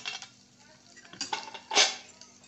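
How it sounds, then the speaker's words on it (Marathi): Garlic-ginger paste goes into a pan of hot oil and ground masala for village-style mutton curry, with a few close metallic clinks and scrapes of a spoon against the pan in short bursts. "याच्यातच मी आपली ही लसण आणि अद्रकची पेस्ट टाकते"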